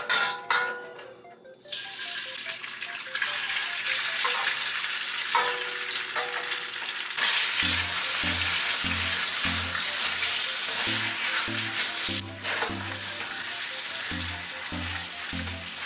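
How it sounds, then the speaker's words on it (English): Beef fries in a pan with a loud, continuous sizzle, opening with a sharp crackle as it hits the heat, then steady frying over a rhythmic low thumping pulse in the background. "Now we're going to cook our beef."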